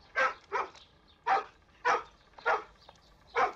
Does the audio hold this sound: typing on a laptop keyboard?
no